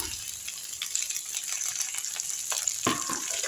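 Tomatoes sautéing in a pan for a drumstick kurma, giving a steady soft sizzle with faint stirring scrapes throughout and a brief louder clatter near the end.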